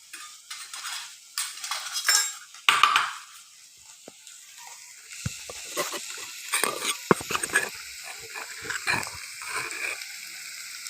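Homemade red masala with coriander-cumin powder sautéing in a pan for Sonari-style chicken rassa, with scattered clinks and scrapes of a spoon against the pot and a soft sizzle, mostly alone.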